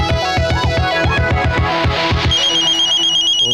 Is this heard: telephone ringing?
yes